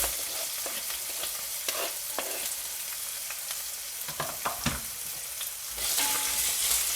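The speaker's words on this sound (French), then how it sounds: "Et on va faire revenir les légumes avec les lardons" Onion, other vegetables and lardons fry in a pan, making a steady close sizzle punctuated by a series of sharp spatula scrapes and knocks. Near the end the sizzle swells louder.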